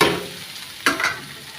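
Sizzling from fish and radish curry frying in a wok, with a sharp scrape of a spatula stirring partway through the continuous hiss of hot oil.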